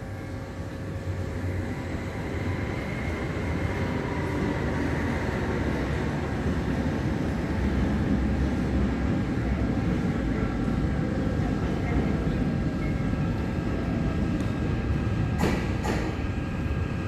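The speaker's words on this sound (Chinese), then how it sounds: "开往北湖的1129次，开往北湖的微笑圈的进站。" An EMU800 commuter train of Taiwan Railways rolls into a station with a steady, loud rumble and rail noise that holds throughout, topped by brief high squeals near the end.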